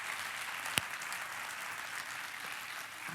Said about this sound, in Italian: Facciamo un applauso a tutte queste persone.